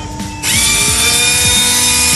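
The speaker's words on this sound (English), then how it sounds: "he's just got to get his sander going" A power sander spins up beside Ford Mustang brake calipers, rising from a brief low start into a loud, steady, high whine that holds close and constant after a short burst of background noise.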